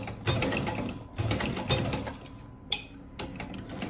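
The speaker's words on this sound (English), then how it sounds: "Just going to go over to the next row and then stitch backwards." A sewing machine stitches backwards across a bag strap being shortened, running in short mechanical bursts of rapid needle clatter separated by brief pauses.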